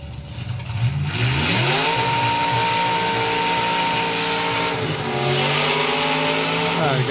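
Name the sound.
drag racing car engine revving on and off the throttle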